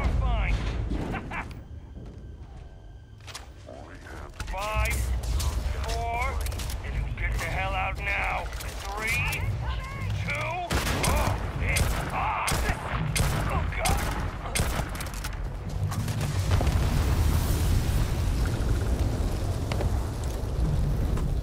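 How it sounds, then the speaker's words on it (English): Gunfire and explosions from combat in the video game Starfield, including a frag grenade blast, crackle in dense bursts over sustained loud noise while someone talks over much of the action. "Frag grenade will work out."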